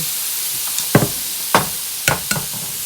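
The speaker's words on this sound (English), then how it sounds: "put it on this pan here, lay it out, and crack an egg right in the center" Filipino sisig with an egg cracked into the center hisses on a hot pan under a steady sizzle. Several sharp knocks of a utensil against the pan stand out over the frying, with no talking.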